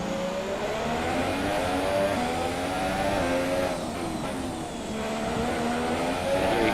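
An F1 race car engine in the F1 2017 video game at Baku screams at high revs, pitch rising through upshifts and dipping briefly, loud and continuous.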